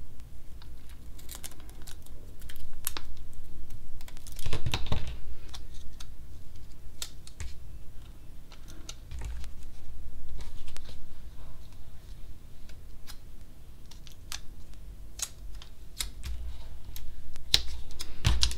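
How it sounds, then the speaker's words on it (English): Paper leaves for a Christmas week planner spread being cut apart with scissors, producing soft, scattered snips and crisp rustling clicks at close range over a quiet room, with no talking. "So here's a couple of leaves that I'm going to cut apart."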